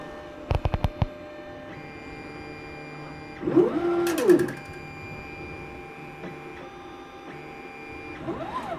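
An Anet A8 3D printer auto-leveling its bed gives off clicking probe taps and rising-and-falling stepper motor whines as it moves between points, with quiet pauses between moves.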